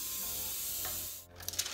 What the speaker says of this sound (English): So now I'm just gonna spray the pan.